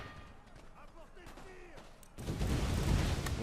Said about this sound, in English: we getting some really good grenade volleys on them